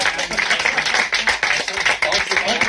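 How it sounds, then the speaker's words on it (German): Audience applause with dense, rapid clapping from many hands, loud and close, holding steady throughout with slight swells. "Applaus."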